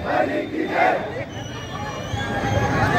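A crowd at a Govinda human-pyramid event loudly chants slogans in unison, with rising and falling massed shouts over steady background crowd noise.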